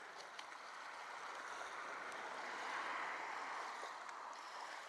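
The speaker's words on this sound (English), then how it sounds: "The little waves lapping in water that can only be described as bloody freezing." Small waves lap quietly at the shore of Ullswater lake with a soft, continuous wash, faint and close, swelling slightly midway, with no talk.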